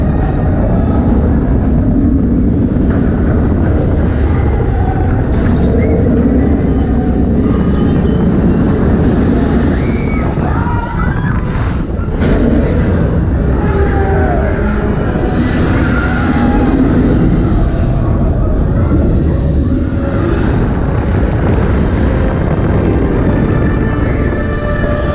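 Flight of Passage ride at Disney's Animal Kingdom, a loud continuous rushing roar and rumble with swelling whooshes throughout, no talk.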